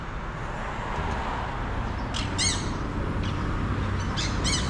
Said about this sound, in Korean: 이건 뭔데 새 소리가 아 새장이구나 앵무새 같은데